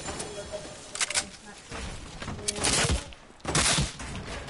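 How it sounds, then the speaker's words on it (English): Gunfire in a shooter video game comes in short bursts of rapid shots, close and loud, with a voice talking between them. "Stop shooting at me."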